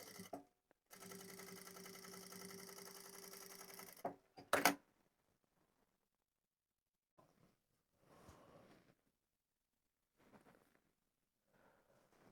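A sewing machine stitches a pom pom hat seam in a steady whirring run for a few seconds, then stops with a sharp clack, followed by quiet handling and faint rustles.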